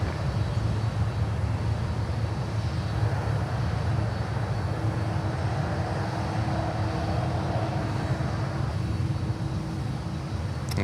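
A cargo airplane of Air Canada at Miami airport gives off a steady, broad engine roar that holds evenly throughout, with no voices over it.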